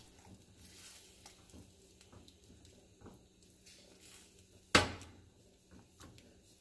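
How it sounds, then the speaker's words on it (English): Refried beans simmering in a pan on the stove give a faint, low sizzle and bubble, with one sharp utensil clink standing out briefly near the end. "I am just going to let them set and simmer in the pan for about 5 minutes."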